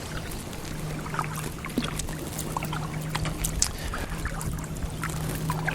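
A distant boat engine drones steadily as a low hum throughout, beneath gentle water lapping and scattered small splashes nearby, at Flint Creek in a wildlife refuge, heard from a paddling boat.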